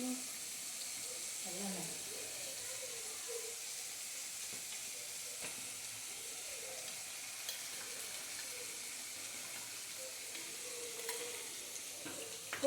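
Ginger cumin paste fries in a pan with a soft, steady sizzle and hiss that runs the whole time, faint and even, with occasional light stirring taps.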